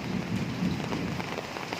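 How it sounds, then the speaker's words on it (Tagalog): Steady rain pours down with a low rumble of thunder beneath it, continuous and fairly loud throughout. "Kulog pa. Takot pa naman ako sa kulog."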